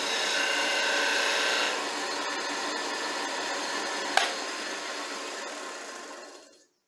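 A skew chisel shaving wood on a lathe, a steady close rasping hiss that eases partway through, gives one sharp knock and then fades out as the cut ends.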